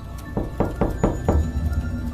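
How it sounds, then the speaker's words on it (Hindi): Another round of knocking on a door, four evenly spaced dull thuds at a moderate, close level over a faint background hum, with no voices. "इसलिए मैंने दोबारा नॉक किया"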